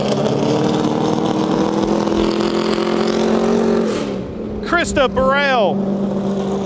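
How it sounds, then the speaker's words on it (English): The number 51 NASCAR race car of Jeremy Clements being tuned in the garage area, its engine droning steadily at a fairly constant pitch beneath someone talking close by. "His car getting tuned on right now in the garage area."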